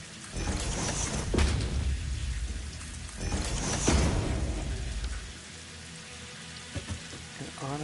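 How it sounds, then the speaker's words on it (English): Heavy rain falls over a Satisfactory desert world while thunder rumbles in two loud rolling swells, the downpour continuing as a softer steady hiss afterward with a few scattered knocks. "And the rain's back."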